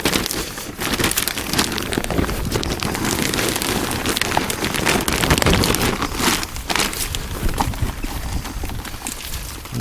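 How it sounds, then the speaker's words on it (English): Heavy rain pours down steadily, a dense close patter of drops on surfaces with scattered louder splats, continuous and fairly loud throughout. "This rain's getting quite heavy now."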